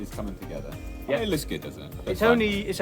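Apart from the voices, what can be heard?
No everyday noise stands out behind the speech.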